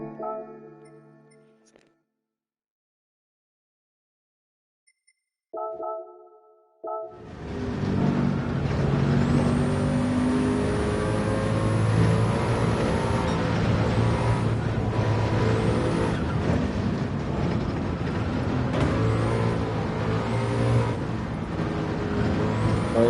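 Nissan R92CP racing car in a video game at Sarthe: a brief mechanical sound, a short silence, then a loud, sustained engine roar with shifting pitch as the car drives on, heard alone.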